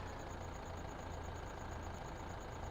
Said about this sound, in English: Let's get back into the tractor. The tractor.